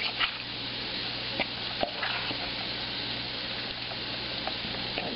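Flour-coated fish frying in a pan, a steady close sizzle with occasional small pops and crackles, continuing evenly throughout without voices.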